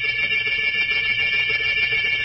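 A bell summoning a servant in an old radio drama rings as a continuous, bright electric trill, steady and fairly loud, with no voices over it.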